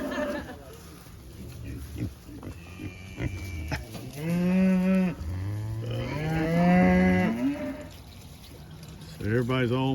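A cow lows repeatedly and pigs grunt on a pasture during a move of a feeder pig group, with long drawn-out moos near the microphone over outdoor background noise and occasional snuffling.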